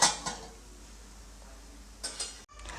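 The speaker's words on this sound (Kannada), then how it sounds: "ನಾನಲ್ಲಿ ಮುಚ್ತಾ ಇದ್ದೀನಿ" A metal lid is set onto a cooking pot of water, giving two quick clinks at the start and a single close clank near the end, with quiet in between.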